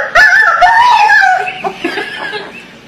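A voice mimics a chicken startled by a thrown shoe, with a sharp rising squawk that breaks into sputtering, clucking noises.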